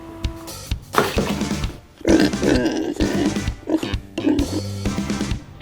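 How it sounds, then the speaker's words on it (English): A pig oinks and grunts in a series of loud, close snorts and squeals with short pauses between them, sounding alone without talk. "Pig."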